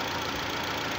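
Warm Honda Stream engine idling, a steady, even mechanical hum with a faint knocking texture, close and constant, with no voices.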